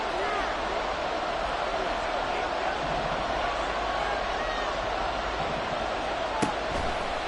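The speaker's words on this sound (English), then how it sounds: "This crowd turning up the decibel level." Steady stadium crowd roar in a Madden NFL 24 football video game, Eagles versus Panthers, a dense continuous wash of cheering that holds level throughout with one brief sharp hit near the end.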